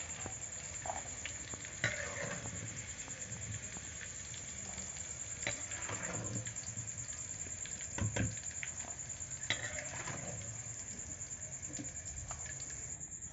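Eggs fry in hot oil for Bengali-style fried rice, giving a faint, steady sizzle with scattered crackles and soft stirring scrapes over about thirteen seconds. No one speaks.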